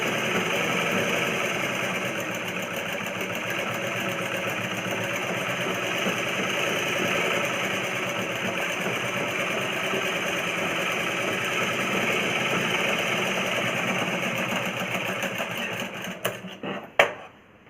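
A sewing machine runs steadily and fast, stitching a plain cross-cut blouse, a close, continuous mechanical whir that stops near the end with a few clicks and knocks, no one talking.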